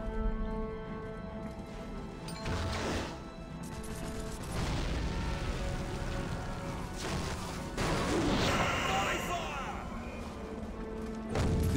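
Heavy cannon blasts and crashing impacts in the video game Warhammer: Mark of Chaos burst through a dense, continuous din of battle noise and music, loud and close throughout.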